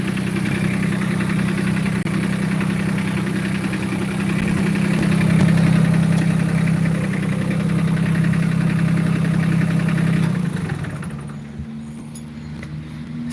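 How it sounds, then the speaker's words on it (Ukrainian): A mini tractor engine idles and runs with a steady, loud mid-pitched drone that swells slightly midway, then eases to a lower, quieter hum near the end. No voices. "вже їде на тракторцеві"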